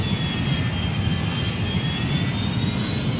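Boeing 737 jet engines roaring steadily and loudly through a landing on the runway at Jeddah, a dense broadband rumble with a thin whining tone sliding slowly upward, no voices.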